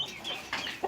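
A young chick, recovering from an injured leg, gives a few soft clucks and peeps, faint and close, with a slightly louder call at the end.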